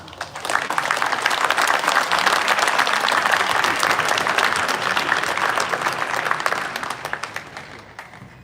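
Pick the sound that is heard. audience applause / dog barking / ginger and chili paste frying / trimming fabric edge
audience applause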